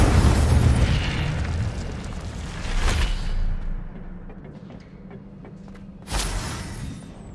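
Incendio fire spells cast in the video game Hogwarts Legacy burst out as loud booming whooshes, one strong blast near the start, another around three seconds in, and a sharp third flare near the end, with quieter rumble in between.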